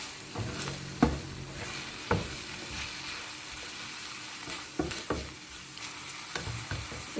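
Soy sauce and chili sauce mixture cooking in a pan with a soft, steady sizzle, broken by a few sharp clacks of stirring at intervals, close and fairly quiet.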